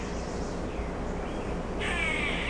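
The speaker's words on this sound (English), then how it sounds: "Can you hear the noise? That's a squirrel over there." An outdoor animal call, a squirrel's harsh, crow-like cawing chatter, heard at a moderate distance over steady background noise.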